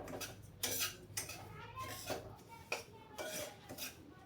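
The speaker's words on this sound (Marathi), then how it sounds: "त्यात थोडी कमी साखर ॲड करते आणि छान फिरवून घेते पहिले." Sugar being stirred into semolina in a pan for shira, with repeated scraping clinks of a spoon against the metal pan in an uneven rhythm, close and fairly quiet, without talk.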